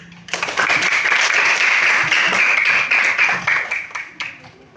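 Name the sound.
applause, clapping hands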